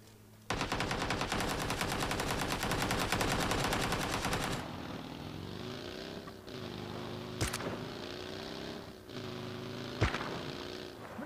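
A BRDM-2 armored vehicle in a combat video game fires a long, loud burst of rapid automatic fire, then its engine hums on while two more sharp single shots crack out, with no speech.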